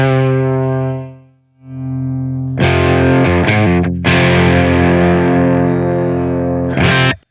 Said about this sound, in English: So with the toggle switch all the way over to the right, we only have drive signal.